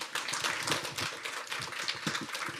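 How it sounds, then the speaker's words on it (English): An audience at an international law symposium claps steadily in a dense, even patter that holds for the whole stretch, heard from within the hall with no one speaking over it. "Please give them a big round of applause."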